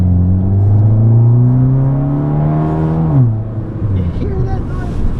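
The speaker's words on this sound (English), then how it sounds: "Let's get on the highway so you can really see the acceleration of this thing." A 2015 Fiat Abarth speeds up on a highway, its engine climbing steadily in pitch before dropping at a gear change and building again, heard loud from inside the cabin over road rumble.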